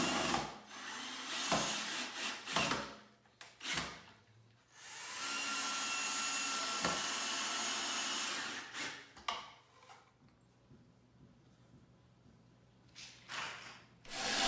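Power drill boring holes into the ends of wooden support pieces for a hydroponic stand, heard as a steady whirring run of several seconds in the middle, with shorter bursts and handling knocks before and after.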